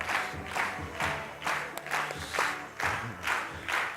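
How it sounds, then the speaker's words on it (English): Audience applause for a qigong presenter at a health talk, rising and falling in rhythmic pulsing waves of clapping with crowd noise, steady and moderately loud throughout. "give a big round of applause to Lee Holden"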